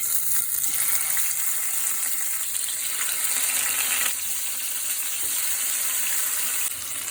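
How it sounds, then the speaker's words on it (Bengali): Katla fish fries in mustard oil in a nonstick pan, giving a continuous crackling sizzle that hisses steadily throughout. No voices are present. "একে একে এখন মাছগুলো ভেজে নেব"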